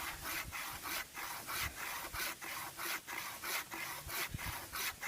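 Hand saw cutting through wood in a rural provincial setting, a steady rasping back-and-forth stroke repeating about twice per second, close and fairly loud, with no talking.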